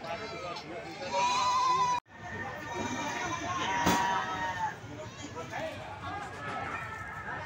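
Goats bleat over a continuous crowd murmur at a busy goat market in Tulungagung, East Java. Traders talk throughout, and the livestock cries keep rising above the hubbub.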